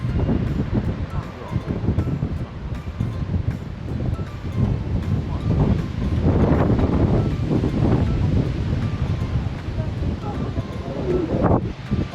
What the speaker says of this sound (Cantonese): 不過係大風咗少少